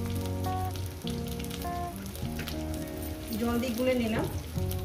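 Ground spice paste of cumin, coriander, grated ginger and turmeric mixed with water hits a hot pan and sizzles steadily, with the frying hiss swelling near the end while someone talks over it.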